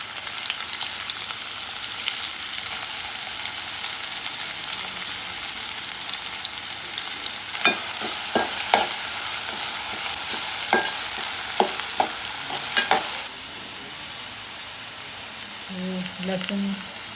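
Onion and bay leaf frying in hot oil give a steady sizzle and hiss, with crackling pops and spatters clustering in the middle, while a voice speaks briefly near the end.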